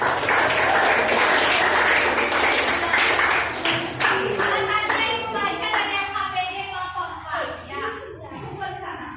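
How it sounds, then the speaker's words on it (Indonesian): A classroom of students claps loudly and fast for a few seconds, then the clapping thins and fades as children's voices and chatter take over. "tapi kan itu tepuk tangan buat Bapak"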